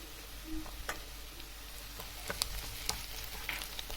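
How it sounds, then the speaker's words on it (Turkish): Tomato paste sautéing in a pan with onions, butter and garlic, a faint soft sizzle broken by light ticks and scraping as it is stirred. "Şimdi de salçamızı ekleyip kokusu çıkana kadar kavuruyoruz"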